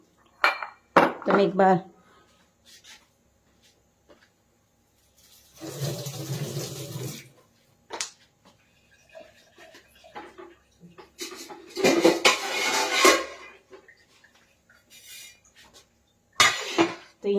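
Someone cleans a kitchen counter, with bursts of clattering dishes and clinking utensils and a stretch of running water between quiet gaps, and someone speaks briefly.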